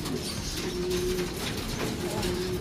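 Racing pigeons coo in a loft, a sustained low throaty coo that repeats close by over a murmur of background noise, with no speech.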